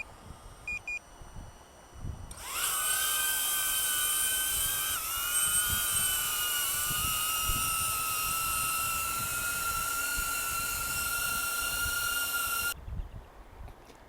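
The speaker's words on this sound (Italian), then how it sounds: "2 clic per accendere i motori, un clic prolungato per decollo ed overing stazionario" A DJI Avata drone's motors spin up with a sharp rising whine and hold a loud, steady high-pitched buzz through takeoff and hover, then cut off abruptly near the end after a couple of short beeps at the start.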